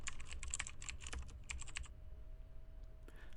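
Quick bursts of clicky computer-keyboard keystrokes for about two seconds while typing a formula into a spreadsheet, close and fairly quiet, then a pause with a faint hum and a couple of final taps.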